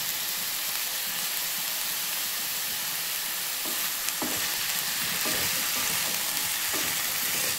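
Onion and brinjal pieces fry in a pan with a steady hiss, and a spatula stirs and scrapes in occasional soft knocks, close up, with no voices.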